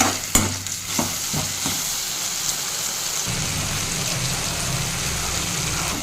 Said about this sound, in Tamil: அது நல்லா சுருங்கி வர்ற அளவுக்கு நம்ம வதக்கி எடுத்துக்கலாம்